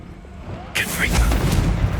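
A Confringo blasting spell in Hogwarts Legacy sets off a sudden explosive burst after a quiet start, followed by a rumbling, crackling blast tail that fills the rest of the moment.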